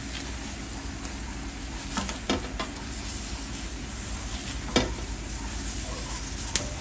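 Tomatillos sizzle in a pan while being flipped, with a steady hiss broken by a few soft clicks and scrapes of turning, close and moderate in level, with no talk.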